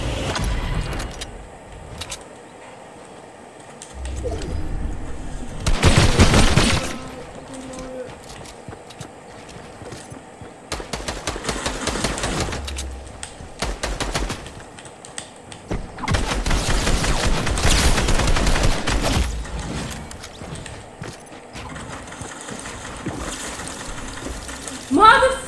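Gunfire in the video game Fortnite comes in several loud bursts and volleys spread across the stretch, separated by quieter game sounds and movement.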